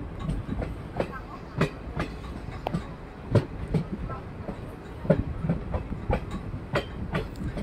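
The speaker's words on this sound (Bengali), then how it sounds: "পুরো একবারে ট্রেনটা বেঁকে ঢুকতেছে" A special train curves into Agartala station, its wheels beating a steady clickety-clack over rail joints in regular paired knocks, close and moderately loud with a low rumble beneath and no talk.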